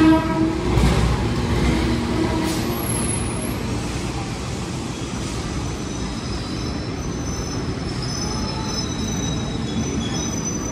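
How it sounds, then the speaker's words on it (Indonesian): The KA Bengawan train pulls into track 3 at Pasar Senen station in Jakarta, bound for Purwosari: a loud, steady rumble of wheels with high metallic squeals and a brief horn-like tone early on, continuing without talk. "Jalur 3, masuk akhir kereta api Bengawan tujuan akhir stasiun Purwosari."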